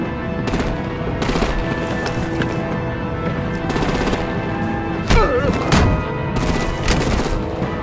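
Rapid machine-gun bursts and heavier artillery booms fire repeatedly in the Batman: The Enemy Within game. The loud volleys come in clustered waves over a dense, constant battle din.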